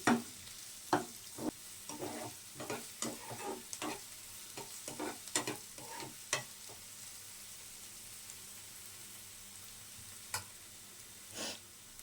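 Sliced onions being stirred in a hot pan for pepper chicken, with a spoon scraping and clinking in irregular bursts over a low steady sizzle, close and moderately loud, fading to mostly sizzle after a few seconds.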